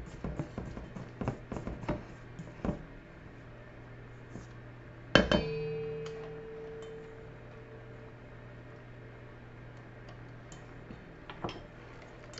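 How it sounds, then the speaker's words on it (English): A spatula scrapes and clinks against a glass mixing bowl while scraping down a peach upside-down cake batter, giving scattered light taps early, then one sharp ringing clink that fades out, all close and quiet. "Just going to scrape down my bowl with my spatula."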